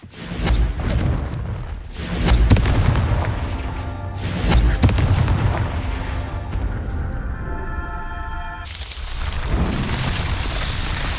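Fiery Confringo spell blasts in the Hogwarts Legacy video game, several deep booming explosions rolling one after another over a dense, noisy game soundscape, with a ringing tonal shimmer in the middle.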